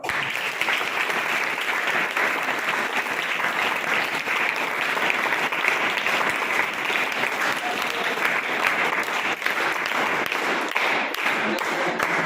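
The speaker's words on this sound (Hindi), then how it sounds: "ताली बजाते रहो।" A seminar audience at a government inter college in Mahoba district, India, claps steadily, a dense and even roll of applause lasting throughout without pause.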